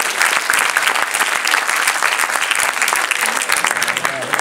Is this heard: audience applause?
yes